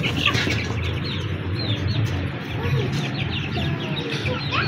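A rooster and hens clucking close by among a flurry of high peeping chicks, with a voice speaking faintly in the background.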